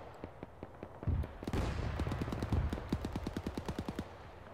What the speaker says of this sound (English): we just have a large amount of fire going back and forth